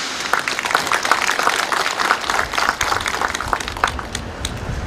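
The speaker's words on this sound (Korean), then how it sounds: "이 두 분께도 여러분 큰 박수 한번 부탁드리겠습니다." Crowd applause at the opening ceremony of a farm machinery rental office run by an agricultural cooperative, steady loud clapping sustained throughout with dense overlapping claps.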